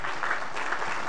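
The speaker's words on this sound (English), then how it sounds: "let's give all of our guests a big round of applause" A church congregation applauds its guests, a continuous wash of many hands clapping at steady volume throughout, with no voices rising above it.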